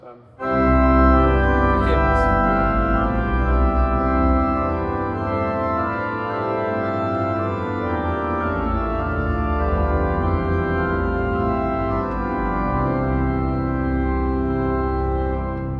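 Full pipe organ chorus of a 2024 Nicholson & Co. two-manual, 34-stop organ in St Mildred's Church, holding sustained chords, rich and bright with many harmonics, loud and resonant, filling the room without pause.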